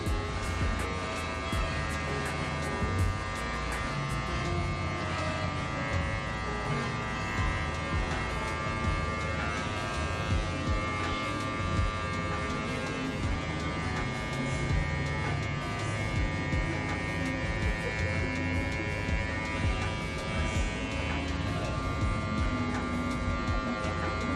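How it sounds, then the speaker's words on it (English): Electric hair clipper buzzing steadily and close while cutting a textured crop haircut, a constant dense drone with faint scraping as the blade is laid flat through the hair. "just lay more of the clipper down"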